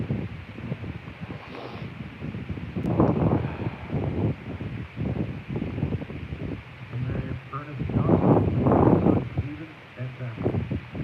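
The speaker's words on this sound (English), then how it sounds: "it's rainy, it's windy today" Gusty wind buffets the microphone in rumbling bursts on a rainy day at an outdoor Remembrance Day ceremony, rising and falling loudly and close, with faint talk underneath.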